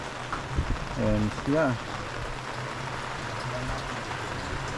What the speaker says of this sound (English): it's now raining. It's raining. It's raining now.